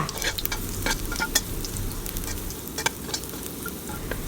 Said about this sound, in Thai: ใส่กระเทียมสับลงไปค่ะ ขั้นตอนนี้เราจะผัดให้กระเทียมหอมก่อนค่ะ